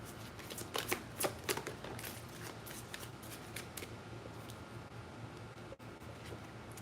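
A deck of tarot cards being shuffled, with a run of crisp riffling flutters and soft slaps up close, easing into quieter card rustling over a faint steady hum.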